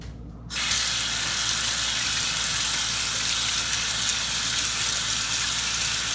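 Tap water gushes steadily into a sink as key limes are washed, a loud, close, continuous rush that starts abruptly after a brief quieter moment.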